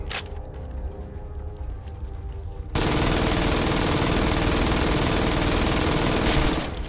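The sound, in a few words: automatic gunfire from video game Fallout 4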